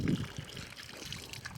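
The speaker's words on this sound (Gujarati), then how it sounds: "પાણીના કુંડા ભરે।" Water is poured into small troughs left out for animals and birds along a path near a village temple, giving a short, faint splash and low gurgle that fades into quiet trickling.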